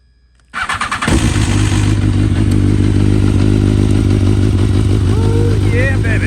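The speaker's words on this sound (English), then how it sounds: "So let's get this cold start going." A BMW S1000RR motorcycle engine cold starting: after brief quiet, the starter cranks with a few rough bursts, then the engine catches and settles into a loud, steady, close idle with faint voices underneath.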